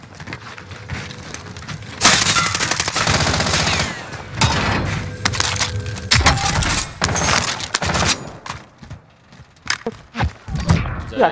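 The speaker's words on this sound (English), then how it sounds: "Who's that shooting at?" Gunfire in Call of Duty Warzone (Cold War), loud bursts and rapid fusillades of shots with scattered single cracks and movement noise, near and dense, with players talking at times.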